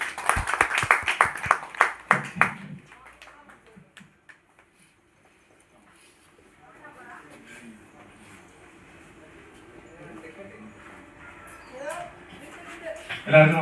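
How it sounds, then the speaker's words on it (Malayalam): A meeting audience gives a burst of applause for about two seconds at the start, close and fairly loud, then it quickly thins out into quiet room murmur with soft talking later. "എല്ലാവരും നിറഞ്ഞൊരു കയ്യടി"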